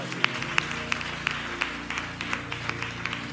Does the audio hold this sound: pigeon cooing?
no